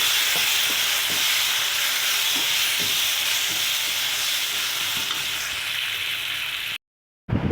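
Mango pickle frying in oil in a pan, a dense continuous sizzle and bubbling with occasional soft stirring taps, close and steady, ending in a short silent gap.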